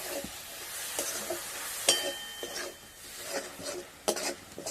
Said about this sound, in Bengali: এইভাবে নাড়তে নাড়তে দেখুন বন্ধুরা